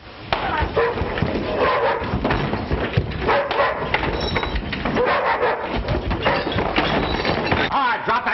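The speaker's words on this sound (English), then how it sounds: "that isn't very sportsmanlike kicking a hungry dog like that" Hungry dog in a 1930s Western, whimpering and giving short yips and barks after being kicked, mixed in a continuous dense band of noise and voices throughout.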